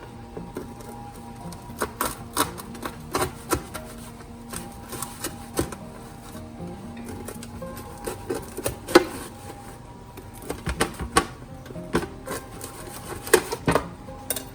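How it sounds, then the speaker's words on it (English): A knife slices through a baked pizza topped with bubbly, browned cheese and caramelized Vidalia onions, giving repeated soft crunching cuts and scraping strokes at close range, with no talking. "we're gonna cut a few slices"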